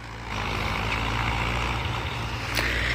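A pair of tractors ploughing a field at the same time, their diesel engines droning continuously at close range with a steady low rumble and a brief sharper mechanical burst near the end, with no voices.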